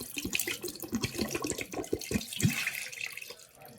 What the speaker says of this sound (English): now what I'm going to do is wash them off like that. Get all the soap off.